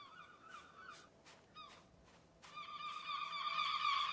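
Seagulls near their nests in the island survival game Escape The Pacific give a series of harsh, squawking calls, several short cries followed by a louder, longer burst of overlapping squawks, clear and close.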